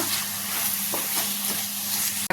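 Mutton keema frying and being stirred in a pan over medium flame, a steady close sizzle with soft scraping strokes of the stirring spoon, no voices.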